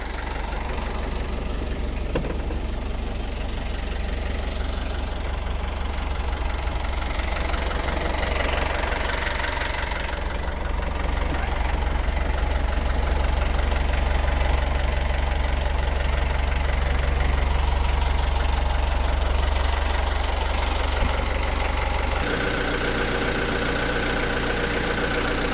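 A diesel engine idles just after starting, a loud, close, steady knocking rumble that runs throughout with a slight shift in tone near the end.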